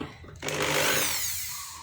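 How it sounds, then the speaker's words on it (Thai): A power drill bores into a wooden box during door-frame joinery; after a brief quiet start, a loud, steady whirring grind sets in and holds for more than a second before easing slightly. "ผมเจาะกล่องนี้ก่อน"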